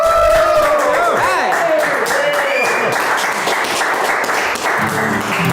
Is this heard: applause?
yes